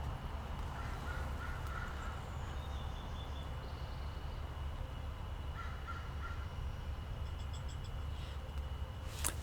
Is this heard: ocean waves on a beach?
no